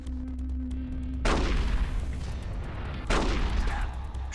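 Revolver gunfire in Metal Gear Solid: The Twin Snakes, two loud booming shots a couple of seconds apart, each with a long rumbling decay over a steady game background hum.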